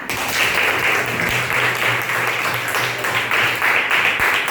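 Students in a primary school classroom break into steady, dense group clapping that stays fairly loud and even throughout the few seconds.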